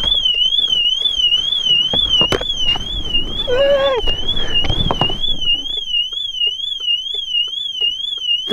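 A car alarm blares close by with a rapid, continuous warbling electronic tone that holds steady throughout, while scattered clicks and knocks sound underneath.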